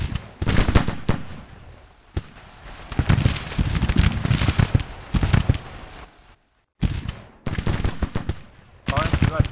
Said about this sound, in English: Turn this infantry around, they're all shooting.